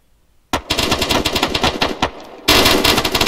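Two bursts of rapid machine gun fire from an Arma 3 platoon training session, the first a rattling stream of close, loud shots lasting about a second and a half, then a second sustained burst after a brief pause.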